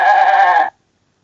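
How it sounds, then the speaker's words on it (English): A goat gives one loud, close, wavering bleat lasting well over half a second, then stops, followed by silence. "goat."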